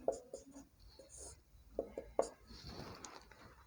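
A pen writing notes during a Hindi literature lesson, with faint scratchy strokes and a few sharper taps, quiet and close, in an otherwise hushed room.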